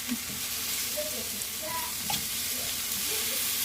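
A blue cheese-topped Juicy Lucy burger patty sizzles steadily and loudly on a hot surface just after being flipped, with faint tool scrapes over the constant hiss.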